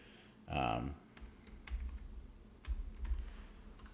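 Keys being typed on a computer keyboard during a Photoshop design session, a short burst of clattering near the start followed by quieter, scattered taps against low background rumble.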